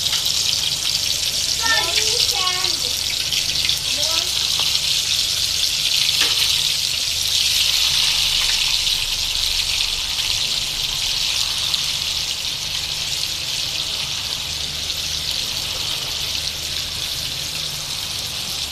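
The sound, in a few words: meat frying in oil for kabab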